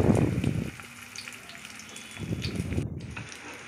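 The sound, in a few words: fish kebabs frying in hot oil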